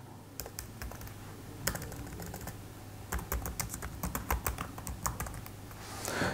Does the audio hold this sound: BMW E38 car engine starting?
no